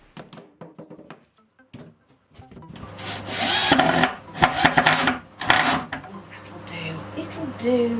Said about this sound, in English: I screwed the main box together, made sure it was square